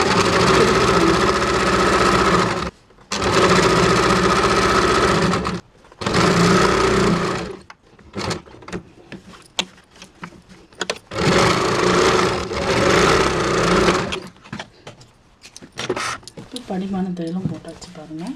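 A sewing machine stitches a blouse neckline in loud, steady motor bursts of a few seconds each, with short pauses between runs and quiet speech in the gaps.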